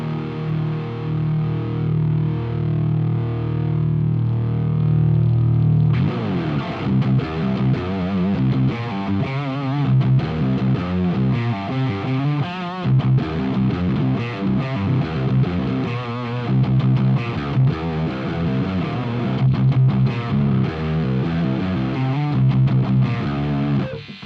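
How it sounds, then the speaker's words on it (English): Electric guitar played through a Brainworx Friedman DS40 Dirty Shirley amp plugin with the power soak lowered and master cranked, giving gritty power amp distortion: a sustained chord first, then loud, driven riffing with choppy, rhythmic strums and no talking. "if I turn the power soak down a bit and I crank the master, will I get some power amp distortion?"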